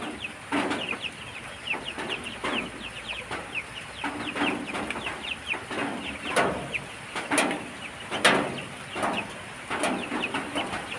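Black Australorp chickens cluck nearby in a steady series of short, sharp calls, several birds overlapping in an uneven rhythm with no talking.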